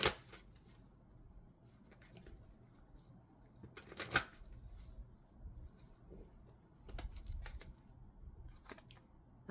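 Numerology oracle cards being shuffled and drawn from a deck, soft close riffling and brief papery flicks in scattered bursts against a quiet background, with no talk.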